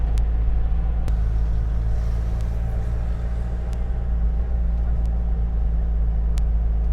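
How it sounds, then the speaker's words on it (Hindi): A Karachi University shuttle bus pulls away, its steady low engine rumble running continuously throughout with faint scattered clicks and a few brief high ticks. "अब यहाँ से गाड़ी रवाना हो रही है"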